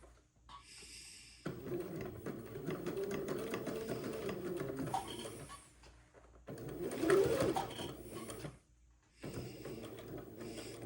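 A domestic sewing machine stitches a seam on the welt of an Eton suit in quiet bursts of whirring motor, with short pauses between runs and soft mechanical clicks.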